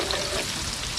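Garlic fries in a hot pan, a brief close burst of steady crackling sizzle.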